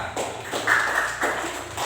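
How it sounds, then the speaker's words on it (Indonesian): Schoolchildren in a classroom clap, a few scattered, uneven hand claps heard close and fairly soft. "Oke, tepuk tangan lagi untuk kita"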